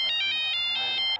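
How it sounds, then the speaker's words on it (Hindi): A mobile phone ringtone plays at home, a repeating electronic melody of bright pulsing tones, loud and close, with faint voices underneath. "हाँ आपका फोन है।"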